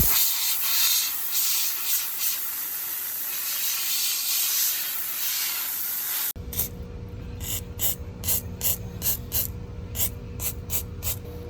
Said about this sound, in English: we're gonna blow all the dirt and debris off the top